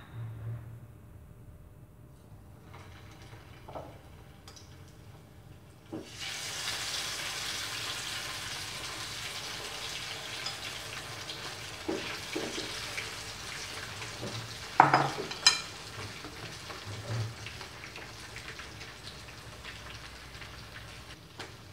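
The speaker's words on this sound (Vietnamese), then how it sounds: "Ta bắt đầu bật lửa đi chiên gà." Oil starts sizzling and crackling partway in as chicken fries over low heat, a steady frying hiss with a few louder pops and spatters, no talking.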